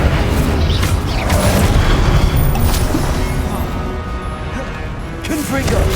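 An Incendio fire spell cast in Hogwarts Legacy, a loud blast of booming, crackling spell and combat effects amid dense game sounds, with a voice speaking over it.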